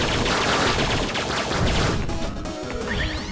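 Charge shots fire at point blank against a boss in the video game 20XX, a dense burst of loud blasts and crashing impacts layered over game noise, with no talk.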